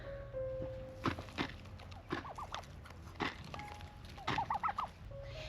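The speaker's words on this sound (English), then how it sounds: "Don't mind that noise in the background, that's just the turkeys." Turkeys gobble in quick warbling bursts amid pecking and clicking sounds as they eat, close by and fairly faint.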